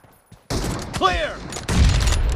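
Gunfire in a PUBG Mobile team deathmatch: a loud burst of shots breaks in after a quiet start, then continues with dense, rapid reports and a sweeping game sound effect in the middle.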